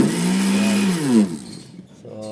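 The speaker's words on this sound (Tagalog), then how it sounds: "Meron akong blender dito." A household blender motor whirs loudly with a droning whine, then winds down after about a second, leaving quiet room noise.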